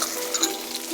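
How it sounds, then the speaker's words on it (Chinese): Shredded ginger, garlic and oysters are stir-fried in a pan, making a brief, loud, close hiss of sizzling with a slight scraping stir. "放点姜丝，放点蒜， 炒香它"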